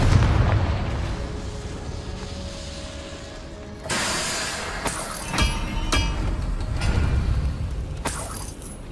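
Confringo fire spell blasts in Hogwarts Legacy, loud explosive bursts around 4, 5.5 and 8 seconds over a dense rumbling battle background, with no talk.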